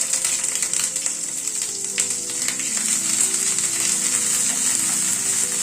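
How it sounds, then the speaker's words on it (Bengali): Lentil paste fries with ginger paste in a pan for a Bengali prawn and banana-flower paturi dish, giving a steady, close hissing sizzle with occasional stirring and no voices. "আদা বাটাটাও ডালের সাথে একবারে কষিয়ে নিচ্ছি।"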